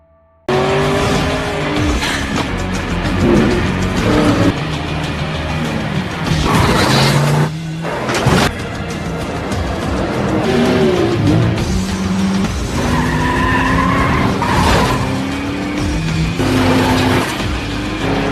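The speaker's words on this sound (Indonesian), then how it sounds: "kini Amos pun melanjutkan balapan tersebut dengan tujuan balas dendam." Race cars in the Death Race prison racing film roar and skid, with tire squeals, engine revs and crashing impacts layered under a dense, loud action soundtrack.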